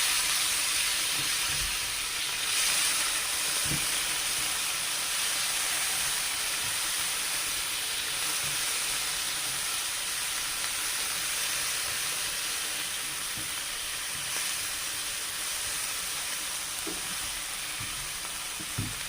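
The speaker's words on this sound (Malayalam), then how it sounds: "നമുക്ക് നമ്മുടെ തക്കാളി എരിഞ്ഞ് വെച്ചിരിക്കുന്ന ഇട്ടുകൊടുക്കാം" Tomatoes fry in a hot pan for chutney, making a loud, continuous sizzle that holds steady from start to finish, with a few soft clicks and no voices.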